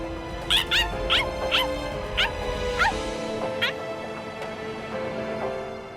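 A small dog in the Bleach Rebirth of Souls video game yaps and whimpers in a quick series of high, sharp barks, fairly close, over a steady game soundtrack.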